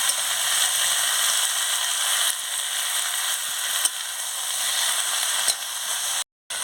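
Malabar spinach frying and being stirred with spices in a pan, a steady loud sizzle throughout with faint scraping stir strokes, close and alone, cutting out briefly near the end.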